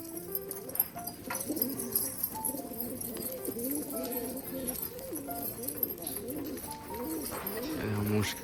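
Pigeons coo in a rhythmic, repeated warble at close range in a village setting, with a person talking over the birds throughout.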